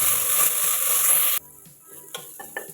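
Chopped onions with curry leaves and bay leaf sizzle loudly in hot sesame oil for a gravy, then the sizzle cuts away to quieter frying with a few stirring clicks and scrapes of a spoon in the pan.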